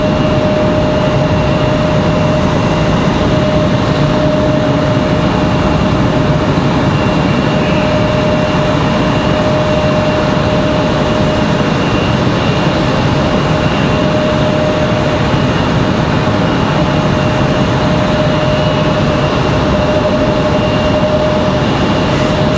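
An Icelandair Boeing 737 MAX 9 flares to land in stormy weather, its broad, steady jet roar loud and constant throughout with a faint steady tone above it.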